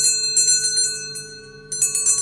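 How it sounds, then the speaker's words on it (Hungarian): Small bells, sold alongside Nepali singing bowls, ring bright and close in several quick jingling bursts with sustained ringing tones, heard alone. "és természetesen vannak csengettyűk is"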